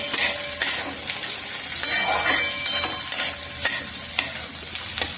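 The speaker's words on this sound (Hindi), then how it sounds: "किचन में लगता है फ्राई हो गया है सब्जी।" Vegetables fry in a pan in a home kitchen, a steady close sizzle with occasional clinks and scrapes of a utensil stirring against the pan, with no talking.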